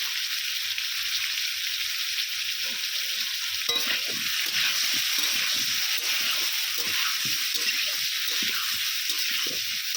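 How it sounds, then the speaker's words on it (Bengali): Potatoes fry in a pan with turmeric and salt, giving a steady, close sizzle throughout, with soft scraping from stirring layered underneath. "আলুটাকে খুব ভালো করে লাল লাল করে ভেজে নেবো"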